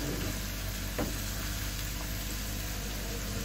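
Garlic and ginger masala paste frying in a pan on slow medium heat, a steady close sizzle with a brief stir partway through, and no talking.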